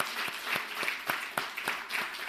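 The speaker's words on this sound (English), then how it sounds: "put your hands together for her" Scattered hand clapping at a career conference, a modest number of distinct claps with a loose irregular rhythm, fairly faint and heard without speech.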